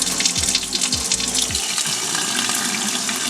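Water gushes steadily through a Python water changer hose into a turtle tank, a loud continuous hissing flow with a few low gurgles near the start, and no voices.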